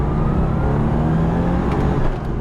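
Porsche 993 GT2 pulling hard in second gear, a loud, dense engine roar with rising harmonic tones climbing steadily throughout, heard from close by with no talk.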